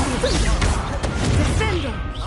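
The Incendio fire spell is cast in the video game Hogwarts Legacy with a loud whooshing crash and impact amid busy combat effects, while a voice talks over the action.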